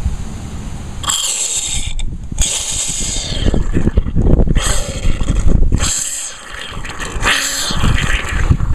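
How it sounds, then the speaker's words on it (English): A pressure washer runs with its trigger held while pumping antifreeze foam for winter storage, making a loud mechanical whir and clatter with rhythmic surges that dip briefly between bursts. "hit the trigger, and then just hold on this until you start seeing foam coming out of the pump"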